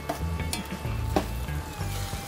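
Mutton and mochai bean gravy sizzling in a pan after chili powder goes in, a steady frying hiss with a few soft stirring scrapes and clinks close by.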